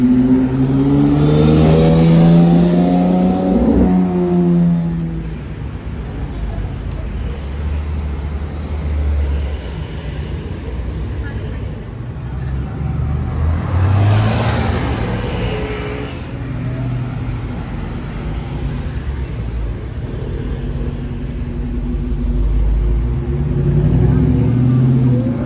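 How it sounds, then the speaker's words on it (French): A Porsche sports car on the streets of Monaco revs and accelerates past, its engine note rising and falling as it approaches and passes, with people talking over the steady traffic and engine noise. "Ah non, c'est la Porsche qui revient"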